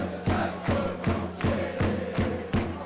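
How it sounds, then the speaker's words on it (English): Mansfield Town football fans in the stadium chant and clap in a steady rhythmic beat, a dense crowd roar with regular accented thumps, loud and filling the space. "see Mansfield fans standing and cheering on their team"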